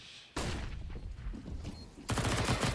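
Gunfire in Counter-Strike: Global Offensive during a pro match, a dense burst of rapid shots and thuds that stops briefly then erupts again in a second loud volley.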